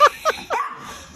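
An angry pup barks and yips in a short played video, three sharp, close barks in quick succession followed by a drawn-out whimpering whine, with no talking.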